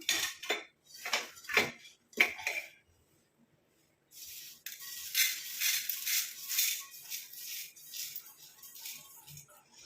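Roasted powder is tipped from an iron pan onto a plate, with sharp metal clinks and scrapes at first, then a quiet gap before a longer stretch of rattling, pouring and scraping, close by.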